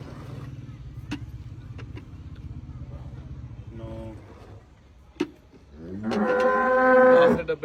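Cattle lowing on a dairy farm, a low, drawn-out moo rising loud and close near the end after quieter farmyard rumble and a few soft knocks.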